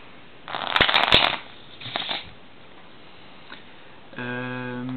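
Bicycle playing cards riffled and shuffled, with a loud burst of rapid flutter followed by a softer second shuffle, then quiet, close to the listener.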